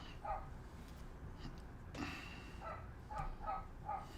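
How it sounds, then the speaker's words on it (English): A neighbours' dog, a young pup, barks several times in short bursts from some distance outdoors, with faint background noise between the barks. "Neighbors must have had their pup out."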